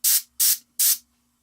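An airbrush spraying paint onto a miniature turtle tank model: three short, evenly spaced hissing bursts, close and clear, with brief silence between them.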